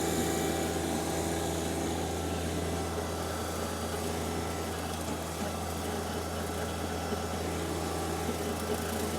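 A sub compact tractor mows wet grass in a field with a big rock, its engine running as a steady mid-pitched drone with a constant hum, loud and unbroken throughout, with no voices.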